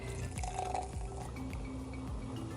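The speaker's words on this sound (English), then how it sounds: "now we're gonna pour my liquid in" Liquid poured into a drink at a summer outing, a soft continuous trickle and splash running steadily and faintly close by with no talking.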